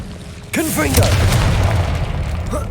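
A Confringo blasting spell detonates in Hogwarts Legacy, hitting suddenly as a loud boom and rolling into a sustained rumble, with a few swooping tonal effects layered over it.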